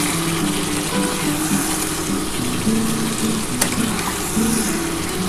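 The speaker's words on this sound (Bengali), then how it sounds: "আমার মটনটা ভালোভাবে কষিয়ে নিই" Mutton with potato frying in oil in a pan, a steady loud sizzle with low bubbling and a hum beneath, occasional stirring noises, close and continuous.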